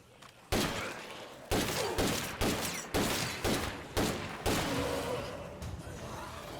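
Several loud, close gunshots ring out in State of Decay 2, spaced about a second apart, each with a sharp crack and a long ringing tail, and no talk over them.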